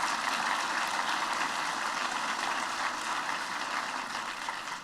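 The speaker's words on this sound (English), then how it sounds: "Give Stephen another round of applause" Audience at a luncheon applauding, a dense, steady wash of many hands clapping at moderate distance, sustained throughout and tapering slightly at the end.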